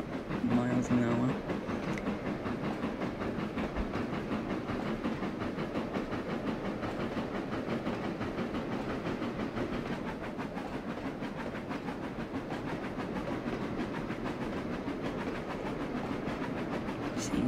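Train in the Trainz Driver 2 game accelerating on rails to 25 miles an hour, a continuous rolling rumble with faint rhythmic clicking throughout, steady and close.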